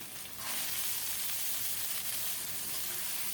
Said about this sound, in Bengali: মশলাটাকে কিছুক্ষণ কষিয়ে নিয়ে এখন দেব ধুয়ে রাখা শিমের বিচি